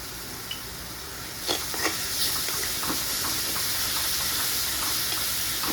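Potato and turmeric mixture frying in a pan, a steady close sizzle and hiss with occasional stirring scrapes and no talk.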